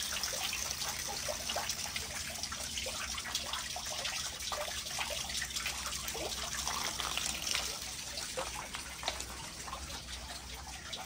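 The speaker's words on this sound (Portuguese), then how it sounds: "eu vou vaso por vaso, molhando as minhas meninas" A hose sprinkles water steadily over potted Phalaenopsis orchids, one pot after another, making a continuous close trickle and splash with no talking.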